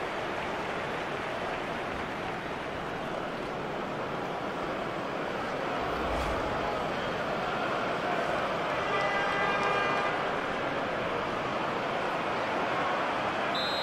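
Crowd buzzing in a football stadium in the FIFA 14 video game, a broad continuous roar of many voices that holds steady with a slight swell later on, with no clear commentary over it.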